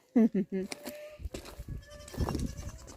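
Baby goats bleat in a few short, close calls near a farmhouse garden and chicken coop, mixed with someone speaking over and around them.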